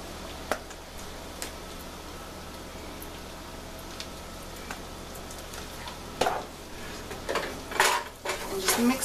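Garlic and paprika stirred in a pan for garlic butter tilapia, with a soft continuous sizzle broken by scattered clicks and scrapes of a utensil against the pan, growing busier toward the end.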